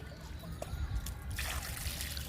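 Water is poured from a mug onto a home-garden compost pile of fresh green grass. A faint, brief trickle and soft splash of liquid fills the short moment, with no talking.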